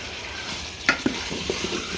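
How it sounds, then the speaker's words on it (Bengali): Curry with coriander sautéing in a pan, a steady close sizzle broken by a few sharp clinks and scrapes of a spatula against the pan, with no one speaking. "এভাবে রান্না করব কষিয়ে কষিয়ে"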